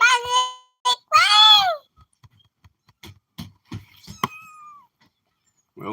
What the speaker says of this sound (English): Well, here's the baby cats.